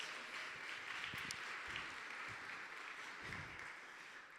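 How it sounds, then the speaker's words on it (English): Audience of women applauding together at an empowerment event, a steady wash of many hands clapping that carries through the whole stretch at even loudness, with no talk over it. "Give yourselves a round of applause today."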